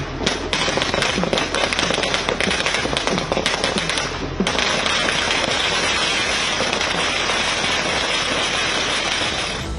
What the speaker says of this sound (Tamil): பட்டாசு வெடித்தும் கொண்டாடினர்